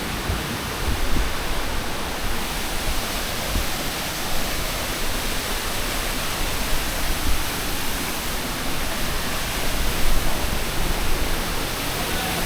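Waterfalls pouring into a shallow cove with an underground cave in Dominica, a loud, dense, unbroken roar of rushing water that fills the whole scene with no talking.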